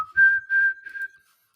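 A person whistles three short, steady, clear notes in a row, close and fairly loud, after which the sound stops and there is quiet.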